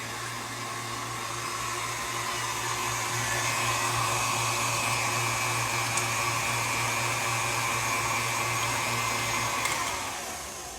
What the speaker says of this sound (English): we're going to mix this up a little bit.